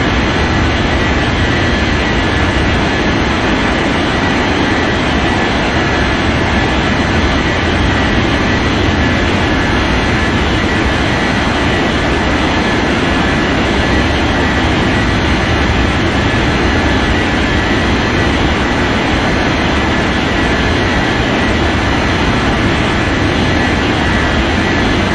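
A loud, steady, broadband engine roar fills the whole stretch as an aircraft takes off from runway 27, continuous and close with no pauses.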